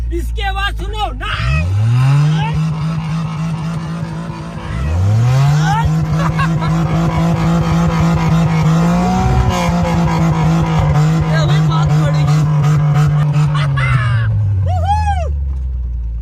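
A four-wheel-drive car's engine revs up in long rising and falling pulls, twice climbing to a loud sustained roar, while tires squeal and skid in sharp chirps near the start and end.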